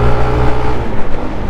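A KYMCO KRV scooter engine pulls hard under acceleration, its loud, close drone rising and surging with a gritty low rumble over a brief, continuous burst of throttle.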